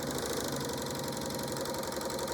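A serger sewing machine runs with a steady, dense mechanical whir and rapid stitching rhythm, continuous and close throughout with no speech.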